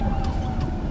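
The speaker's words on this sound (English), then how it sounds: "Here comes an ambulance." Brief stretch of an ambulance siren heard from a car stopped at a traffic light, a tonal wail sitting over low road rumble for about a second.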